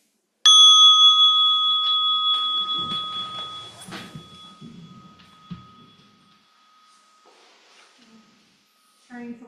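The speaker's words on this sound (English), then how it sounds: "And with this bell, we can rise." A single mindfulness bell is struck during a meditation session, ringing loud and clear and then decaying slowly over several seconds in a quiet room. Soft shuffling and light movement noises sound beneath the fading tone.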